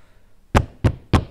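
Three firm, evenly spaced knocks on a house door, close and loud, struck about a quarter second apart with silence in between.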